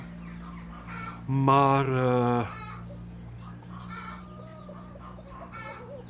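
Chickens kept by a prior cluck and cackle, with one loud, drawn-out crow-like call early on and softer clucks after it, while someone speaks Dutch nearby.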